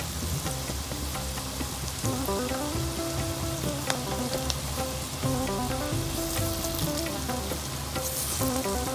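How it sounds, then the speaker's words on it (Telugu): Bitter gourd pieces frying in plenty of oil over low heat, a dense continuous sizzle and crackle, close and loud, with a steady hum beneath and no talking. "అందులో మళ్ళీ వేయకుండా ఇవి బాగా దూరగా రెడ్నిష్ వచ్చే వరకు వేయించుకోవాలి ఈ కాకరకాయలని"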